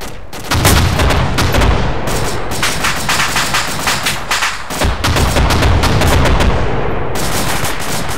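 Rapid gunfire in the tactical shooter ArmA, with dense bursts of sharp, loud shots cracking almost continuously and brief pauses between volleys, close and overpowering.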